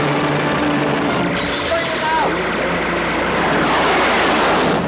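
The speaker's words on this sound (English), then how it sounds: "What was that thing? It's called a jet fighter. It was known as the Saber." Saber jet fighter engine roaring loud and close, a dense sustained wash of jet noise with a faint falling tone as the aircraft passes, continuous throughout.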